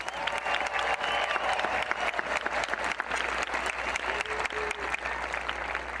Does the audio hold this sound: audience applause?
yes